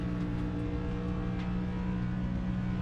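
Racing kart engine at a touring kart championship event in Nashville, revving hard and holding high in first gear; a loud, steady, continuous engine drone with no talk over it.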